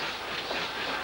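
A passenger train running on rails heads toward Tucumcari, New Mexico, a steady, even rumble with a broad rushing hiss. It is continuous and fairly loud throughout, with no voices over it.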